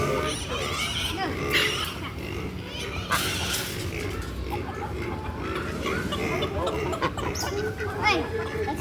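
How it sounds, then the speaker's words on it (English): Chickens cluck among other farm animals at a petting zoo, a steady busy mix of fowl calls with occasional louder squawks, heard alongside people talking nearby. "Look at the chickens behind you."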